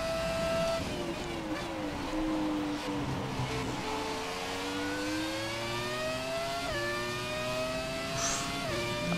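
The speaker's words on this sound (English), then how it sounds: "Oof, a loud car that slips a lot." A Haas F1 race car in F1 2017 on the Sochi circuit, its engine screaming and revving up and down through the gears, rising and falling in pitch continuously with no talk.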